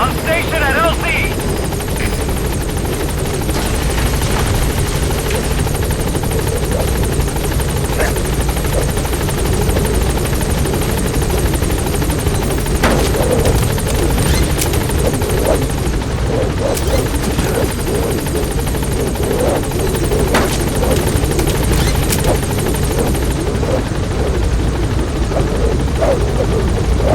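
Pequod helicopter in Metal Gear Solid V hovers at a landing zone, its rotor thrum loud and continuous throughout, with radio voices talking over the steady drone.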